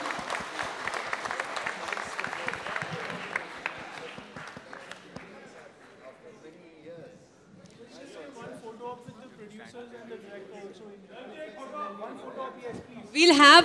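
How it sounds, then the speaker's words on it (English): Audience applause at a film trailer launch event, a burst of clapping that fades into crowd chatter and announcer talk. "Give them a huge round of applause"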